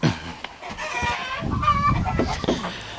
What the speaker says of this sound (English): We got rooster up here breeding.